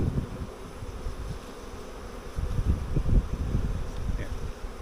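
Honey bees buzzing densely around a hive outdoors after heavy rain, a steady close hum with bursts of louder low buzzing from bees near the microphone.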